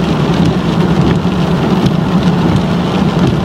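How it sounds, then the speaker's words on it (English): Heavy rain in Texas pours steadily and loudly, a dense continuous hiss of drops drumming on surfaces with no pauses and no voices. "And it's raining, y'all."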